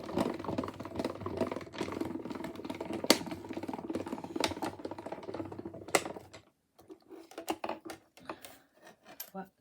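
A die-cutting machine presses Christmas craft dies through paper, giving a run of loud clicking, clattering mechanical bursts for about six seconds, then a few sparser clicks and taps nearby, with no talk.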